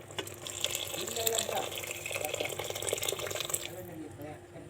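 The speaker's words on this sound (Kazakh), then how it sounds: "Міне картопымыздың үстіне тағы да біраз су қосамыз" Water poured from a tap or jug over potatoes boiling in a pot while making strudel, a steady splashing stream that runs for about four seconds with kitchen clatter, then ends abruptly.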